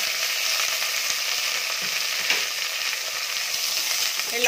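Onion, chana dal, mint, coriander leaves and green chillies sauté in hot oil with a continuous close, bright sizzle and occasional soft stirring taps, no voices.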